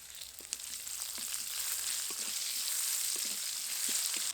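Chopped onions sizzle in mustard oil with dried chillies, a bay leaf and panch phoron spices, giving a soft, steady hiss and crackle that grows slightly as it goes on, with faint ticks of stirring and no talk.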